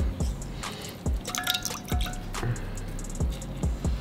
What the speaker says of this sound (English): just squeeze in the lemon juice